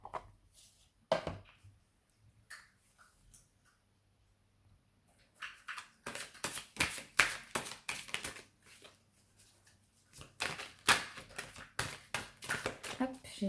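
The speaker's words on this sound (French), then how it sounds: "je vais tout de suite prendre mes cartes et les mélanger" A deck of cards is shuffled by hand, a fast run of close, crisp riffling and flicking bursts in two main stretches after a quieter start, with a few soft taps in between.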